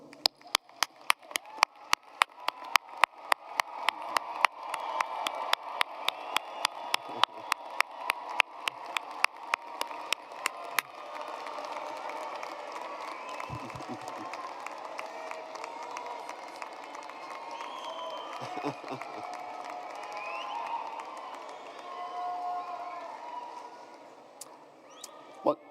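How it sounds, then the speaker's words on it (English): Graduation ceremony audience applauds loved ones in a large hall, sharp distinct claps early that swell into a sustained wash of clapping and cheering crowd noise. "join me in giving them a round of applause for their support"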